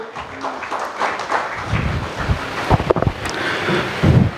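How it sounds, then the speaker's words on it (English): Audience applause in a hall at the inaugural session of an engineering faculty development programme: irregular clapping that builds to a rough, uneven patter with some wind-like noise over the microphone. "A huge round of applause, everybody in the hall,"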